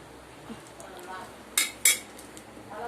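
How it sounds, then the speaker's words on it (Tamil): Chicken stirred in a pressure cooker: two sharp metallic scrapes and clanks of a spoon against the pot stand out over a quiet background, with soft handling noises between them. "குக்கரில் இந்த சிக்கன் தான் நான் இதில் போட்டிருக்கேன். இதை நான் உங்களுக்கு நல்லா மிக்ஸ் பண்ணிக்கிறேன்."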